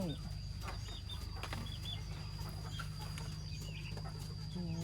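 Free-range native black chickens on a farm cluck and chatter continuously nearby, several birds at once, with scattered short calls over a steady farmyard hum.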